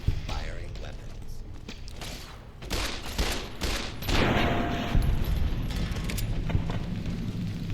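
Weapons firing in Fallout New Vegas, with scattered gunshots and mechanical clatter that build into dense, loud bursts of fire in the second half.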